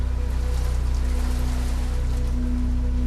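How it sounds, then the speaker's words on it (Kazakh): Heavy rain pours steadily on a June evening, a dense continuous hiss of drops drumming on surfaces with a low constant rumble beneath, close and unbroken with no voices. "Кешке қарай жаңбыр тоқтамай жауып тұрды."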